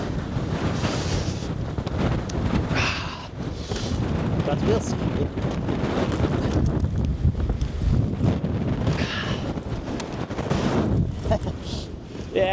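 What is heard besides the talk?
strong wind blowing outside at Iceland volcano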